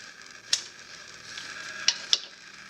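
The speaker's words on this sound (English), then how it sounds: "So we're adding 1 stick of butter." A stick of butter sizzles with potatoes in a pan, a soft, faint hiss with three sharp spatula clicks against the pan spread across the short stretch.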